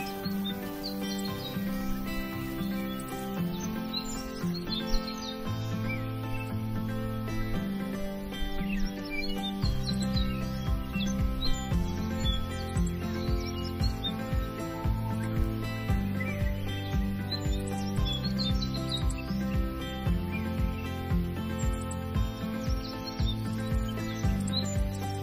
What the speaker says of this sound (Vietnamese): chỉ nghe được có tiếng chim kêu và tiếng động vật kêu thôi